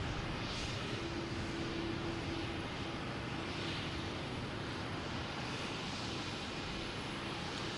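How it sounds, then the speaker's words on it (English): A helicopter flies near Boston Logan Airport, its engine and rotor giving a loud, steady, rumbling drone that holds for the whole stretch without a break and with no voices over it. "just a helicopter. That's what it is."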